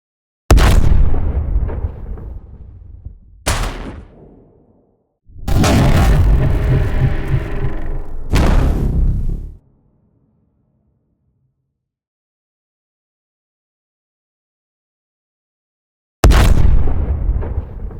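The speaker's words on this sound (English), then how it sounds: "set a team challenge to record and design some explosion sounds from scratch as well." Designed explosion sound effects, built from scratch and recorded only with an iPhone microphone, play as a series of loud booming blasts with sharp attacks and rumbling tails, separated by stretches of silence.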